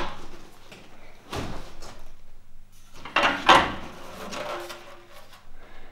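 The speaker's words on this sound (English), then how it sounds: "I like to open the box and I like to show you the bike." The box holding a primed Trek Madone bike frame is opened with a series of cardboard rustles, scrapes and knocks, close and irregular, rising to louder handling bursts near the middle.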